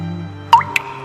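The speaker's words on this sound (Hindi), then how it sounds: "बारिश लगातार 3 दिनों से हो रही थी।" Rain water dripping in two distinct, close drops, a louder plop followed by a lighter one, against a quiet low hum, used as an effect in a narrated story about days of heavy rain.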